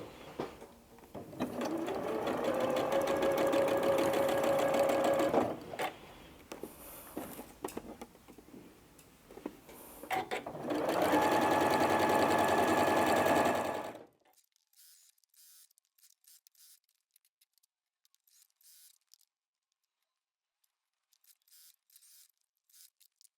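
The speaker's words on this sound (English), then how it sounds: "So we're going to take that all to the sewing machine, attach with 1/4 inch" A sewing machine runs in two long bursts, stitching quilt block pieces together with a quarter-inch seam. The steady, close motor whir stops briefly between runs, then near-silence follows with a few faint handling ticks.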